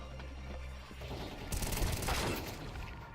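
A burst of AK rifle fire in a video game cracks out about halfway through, loud and dense for roughly a second, then fades into mechanical clatter.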